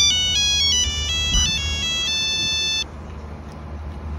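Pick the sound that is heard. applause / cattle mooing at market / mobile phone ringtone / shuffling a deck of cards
mobile phone ringtone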